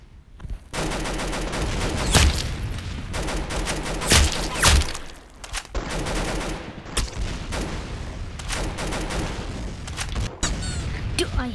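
Rapid gunfire from the video game Arsenal, dense bursts of automatic shots and booms in quick succession, loud and close, with brief gaps between volleys.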